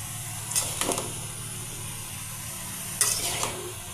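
Mixed vegetables frying in a pan for vegetable roll filling, a steady moderate sizzle with two short bursts of spatula stirring scraping against the pan, no talk.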